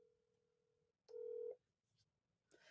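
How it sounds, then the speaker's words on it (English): A telephone is dialed, giving a soft steady tone and then one loud, short dialing tone, followed by faint clicks and rustling, with no talking. "Andrea, try call her"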